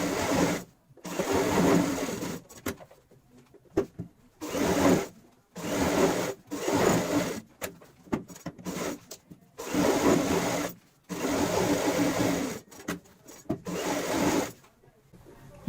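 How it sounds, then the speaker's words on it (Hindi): Seams on a cushion cover being stitched by a sewing machine in repeated bursts of whirring, with short pauses between runs, close and fairly loud, without speech. "सिलाई के ऊपर सिलाई लगाएंगे।"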